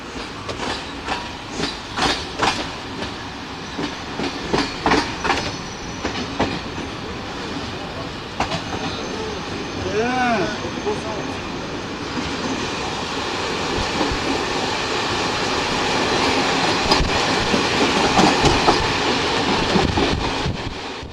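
A train rolls along a single-track mountain line from Sofia to the Black Sea, wheels clicking rhythmically over rail joints at first, then settling into a continuous rumble with wind noise, close and loud throughout.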